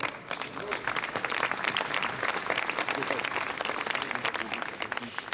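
An audience applauds at a support gathering, with sustained dense clapping from a crowd filling the space at full volume for several seconds.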